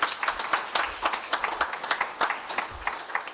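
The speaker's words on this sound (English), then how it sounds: "Give him a round of applause" Audience applause at a first responder awards ceremony, a moderately distant crowd clapping in quick, uneven bursts with individual claps standing out throughout.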